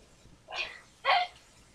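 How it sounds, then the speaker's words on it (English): A dog barks twice in quick succession in the Roblox video game, each bark short and moderately loud with no talking over it. "A dog."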